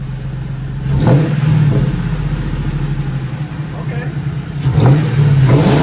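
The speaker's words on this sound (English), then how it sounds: "I'll go rev it though." A Ford Mustang engine runs loud and close, rising in two revs near the start and end with a steady rumble between, and a person speaks briefly over it.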